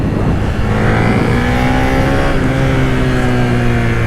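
A Suzuki SVF650 Gladius V-twin motorcycle pulls hard in second gear, its loud, close engine note rising steadily in pitch as the throttle rolls on, over constant wind rush.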